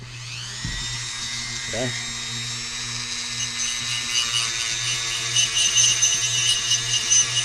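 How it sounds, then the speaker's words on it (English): Coarse sandpaper on a power tool grinds down an RC boat propeller, a steady high whir running throughout with a brief voice near the start. "I'm going to go ahead and grind this off a little bit"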